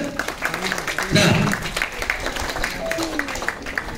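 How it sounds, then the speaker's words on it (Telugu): A classroom of students claps briefly in applause, a short burst of scattered clapping mixed with a teacher talking before and after. "గ్రేట్, కొట్టండి క్లాప్స్"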